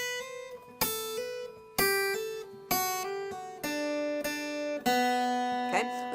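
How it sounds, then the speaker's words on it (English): Guitar lead line from a song's intro, a series of ringing picked notes and chords struck roughly once per second, close and clear with sustained decay, no talking. "Now there's a really cool little lead line on this intro that I'm going to show you a little bit later."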